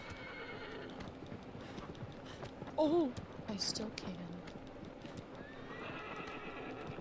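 A horse in the video game Shadow of the Colossus gives a loud, rising whinny midway, with hoofbeats and game ambience around it and a player's voice talking over parts of it.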